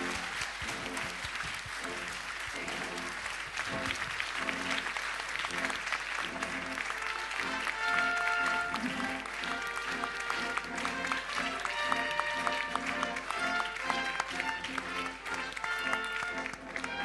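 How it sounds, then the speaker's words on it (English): A hall audience applauds an award winner at a Nordic documentary film ceremony, a steady wash of many hands clapping continuously with no break. "Big applause, of course."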